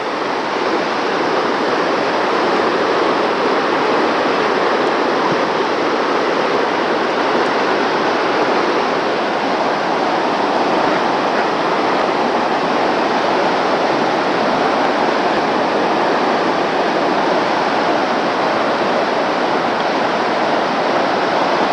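High river water rushes steadily beside a campground in New Hampshire or Maine, a loud, continuous broadband roar with no breaks and no voices.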